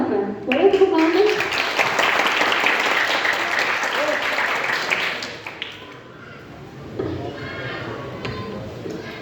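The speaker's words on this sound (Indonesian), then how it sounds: "Boleh tepuk tangan?" An audience at a book seminar claps for a speaker, a dense round of applause lasting about five seconds before fading, with voices and murmuring afterward.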